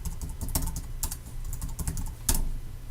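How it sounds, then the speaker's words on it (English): Someone types a login on a computer keyboard, a close run of irregular key clicks with one sharper keystroke near the end and no voices. "I'm going to type in my login"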